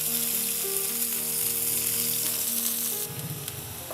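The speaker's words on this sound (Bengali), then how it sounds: "পেঁয়াজটি হালকা নরম করে ভেজে" Chopped onions fry in oil left over from frying fish. The sizzle is close and steady with a crackling hiss throughout, and a short burst of stirring clatter comes near the end.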